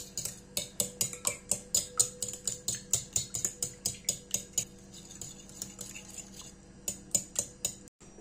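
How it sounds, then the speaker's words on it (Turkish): A fork clinks rhythmically against a tea glass while stirring a little water into a mixture, about twenty bright, evenly spaced taps, close and clear over quiet background, slowing slightly before stopping. "Bir çatal yardımıyla karıştırıyorum."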